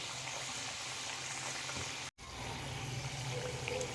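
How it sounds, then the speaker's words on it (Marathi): Khari biscuits fry in hot oil with a steady, dense sizzle and bubbling, broken only by a brief dropout partway through. "वरती ते बुडबुड्या दिसले त्या कमी होईपर्यंत तळत राहायचे पाच ते सात मिनिट"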